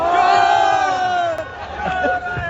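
Crowd at a political rally in Vehari, Pakistan, chanting slogans about Nawaz Sharif and the Muslim League, loud massed voices rising in rhythmic calls with cheering.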